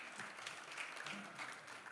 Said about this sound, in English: let's clap for Nigeria.